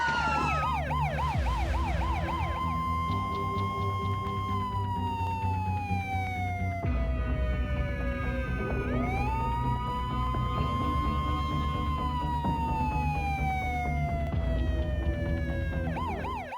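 An ambulance siren wails loud and close, its tone sweeping up and down continuously without pause, with no talking over it.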